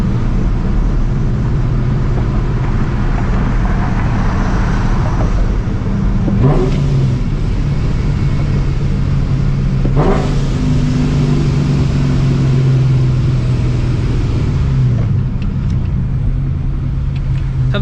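A straight-piped, supercharged New Edge Mustang GT drives along, its loud, close engine droning and rising through revs with sharp shifts between gears over a continuous deep rumble, and no talk over it.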